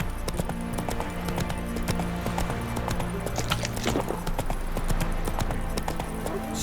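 Horse hooves clip-clop at a steady trot in The Witcher 3, close and continuous under a busy game backdrop of music and ambient sound.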